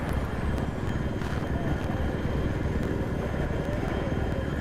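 A helicopter in the video game Battlefield 3 drones in a loud, steady rotor and engine roar that fills the scene evenly, with faint sharp clicks or shots over it.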